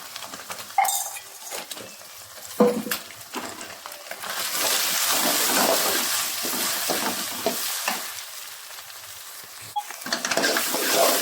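Egg with turmeric frying and being stirred in a pan, a steady close sizzle broken by occasional utensil clinks and scraping, louder through the middle.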